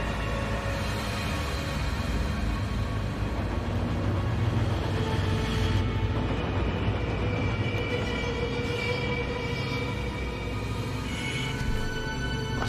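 A runaway train on railway tracks makes a continuous, loud rumble with a droning roar and scraping metallic tones that hold steady the whole time.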